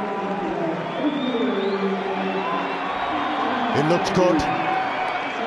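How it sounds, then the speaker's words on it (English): Home crowd at a T20 cricket match cheering and whooping in a sustained swell, with a commentator talking over it throughout. "The home crowd have something to cheer."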